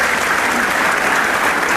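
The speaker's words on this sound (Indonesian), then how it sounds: "Ini Mas tepuk tangannya." A studio audience at an Indonesian television talk show claps continuously, a loud, dense, even burst of applause with no voices over it.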